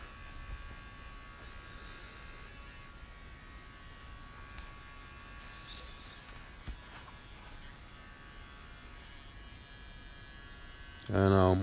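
Electric hair clippers debulk hair for a high taper fade, making a steady close buzzing hum that runs unbroken throughout and ends in a brief louder burst.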